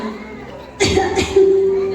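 Two short, harsh coughs close to the listener, one after another, over a faint steady hum.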